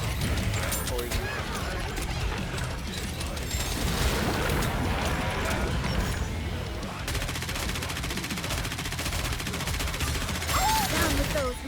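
Dense, continuous automatic gunfire from the anime shooter NIKKE, layered with rattling mechanical clatter and game effects, persisting under bursts of talk from a player.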